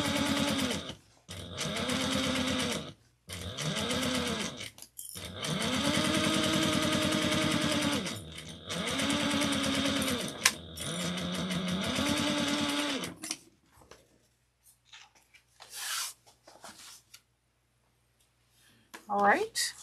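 A sewing machine top stitches a seam at 1/8 inch with back stitching at each end, running in several separate bursts of steady mechanical whirring with short pauses between, then going quiet as faint handling noises follow.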